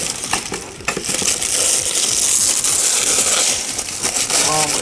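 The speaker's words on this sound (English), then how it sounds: "So this is gonna be a raw unboxing" Cardboard box packaging around a Succubus Queen Lisbeth figure being opened by hand, with crinkling, scraping and crunching rustles and sharp clicks in quick irregular bursts, close and loud, with a brief voice near the end.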